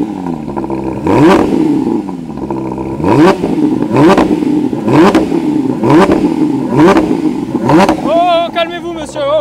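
A Porsche GT3 engine revs hard in repeated sharp blips, about six rising bursts with a steady rhythm, loud and close, before settling into a burbling idle at the end.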